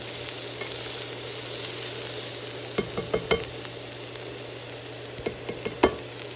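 Garlic sizzles steadily in a saute pan, a close, continuous frying hiss with a few sharp clicks and pops of utensil against pan toward the end; no one speaks.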